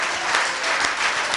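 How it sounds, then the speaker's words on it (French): Church congregation claps together during a worship service, a steady dense burst of many hands, loud and close, lasting the whole short moment. "Donnez un grand applaudissement pour la gloire de Dieu."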